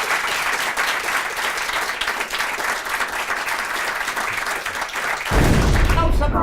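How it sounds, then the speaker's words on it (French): An audience at a French television broadcast applauds steadily and densely for several seconds, loud and sustained, ending in a heavier thumping burst. "On s'applaudit."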